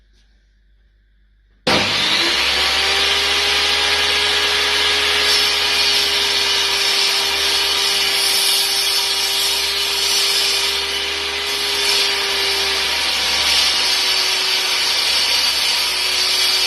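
A power saw blade cuts wood for a homemade chess set. After near silence it starts abruptly and runs as a loud, steady, close whine for about fifteen seconds, with no talking.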